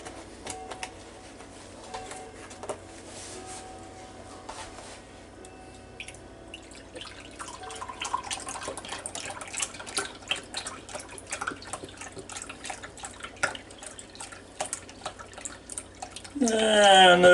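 Beef broth poured into a Ninja Foodi Deluxe pot for rib eye: quiet drips give way to a steady, splashy trickle that swells louder at the end.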